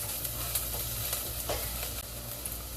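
Onion leeks fry in perilla oil for a Korean soft tofu stew, a close, even sizzle with a few faint crackles over a low steady hum.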